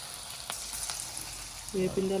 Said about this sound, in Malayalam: നല്ല പൊക്കവട ഉണ്ടാക്കുന്നുണ്ട് മാമാൻ്റെ സ്പെഷ്യൽ